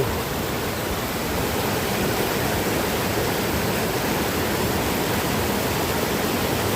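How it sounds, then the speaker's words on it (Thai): Mae Surin waterfall in Khun Yuam, Mae Hong Son, Thailand, gives off a steady, even roar of falling water, continuous and unchanging, with no voices over it. "ถึงน้ำตกไม่สุรินทร์"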